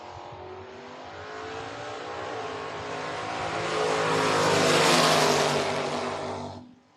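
A dragster roars down the drag strip at a race event, a sustained engine howl that swells louder toward the middle and then cuts off abruptly, heard from a distance with no voices.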